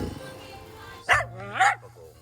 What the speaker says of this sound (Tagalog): Kahol ng kahol ang aso, bawawaw, bawawaw, bawawaw